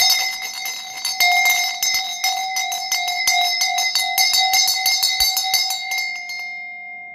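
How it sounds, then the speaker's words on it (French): A small handheld bell rings in quick repeated strikes, bright sustained tones layering over one another, then stops and lets the ringing fade away. "sonne ma cloche d'abord."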